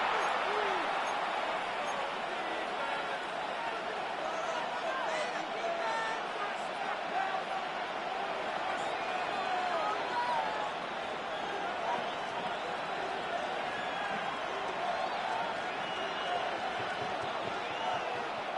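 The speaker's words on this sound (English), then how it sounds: "This crowd urging the defense on" A large American football stadium crowd roars steadily as it urges the defense on before a third down, a constant loud wash of cheering with a commentator talking over it.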